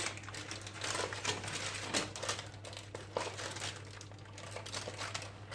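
Baking paper crinkles and rustles steadily as a freshly baked sponge cake is rolled up in it for a rolled cream cake, with irregular close crackles over a constant low hum.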